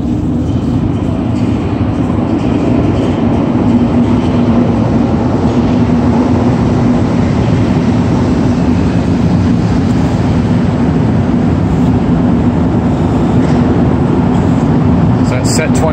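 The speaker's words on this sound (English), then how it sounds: "here comes another train right now as we speak" A loud, continuous low rumble of a Green Line metro train rolling in, steady throughout with voices faintly mixed into the noise.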